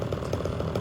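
A Homelite Super XL chainsaw with a rebuilt Tillotson carburetor, bad cylinder and piston runs rich, its engine droning steadily and loudly with a rough, pulsing burble throughout.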